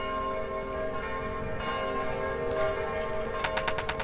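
A bell tolls in the video game Kingdom, a sustained resonant ringing that keeps going, with a quick run of bright repeated chimes near the end.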